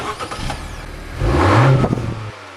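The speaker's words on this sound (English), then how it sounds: "And now we'll have a listen at the exhaust." A Honda CR-V engine revs up sharply through its exhaust, a loud throaty rumble that rises, holds, then cuts off abruptly.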